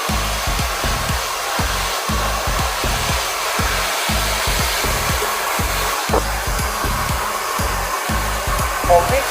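A hair dryer blows steadily and loudly at close range while styling hair for a Farah blow-dry, its airflow roaring continuously with a rhythmic pulsing flutter throughout and no speech.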